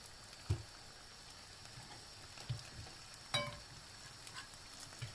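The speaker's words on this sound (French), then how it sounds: "dès que l'huile est vraiment chaude, ça y est, ça cuit hyper vite" Samosas stuffed with egg and potato frying in very hot oil: a soft, continuous sizzle with a few dull knocks, fairly faint and without speech.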